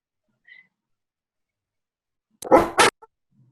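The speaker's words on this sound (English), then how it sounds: "sorry about barking." A dog gives a short burst of barking at close range, one loud bark-like cluster with a faint yelp after, heard alone in an otherwise quiet room.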